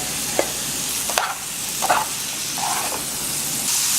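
Vegetables are stirred into a pan of frying onions, pimento and garlic for a Trinidad-style tofu and veggie stir fry, with a loud, continuous sizzle broken by several scraping stirs close by.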